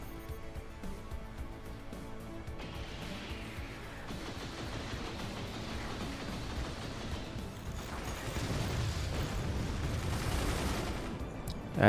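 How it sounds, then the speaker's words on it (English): Howitzer fire in the Forts base-building game: a steady stream of thudding shots and mechanical clatter that swells louder toward the end, ending in a sharp burst, with no voices. "That's a howitzer."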